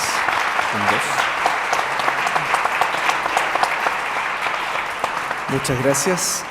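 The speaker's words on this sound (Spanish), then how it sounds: "Solicito un aplauso para ellos." Audience applause for the organizers at a panel on the challenges facing Catholic universities: steady, dense clapping from a full room, with voices briefly audible over it near the end.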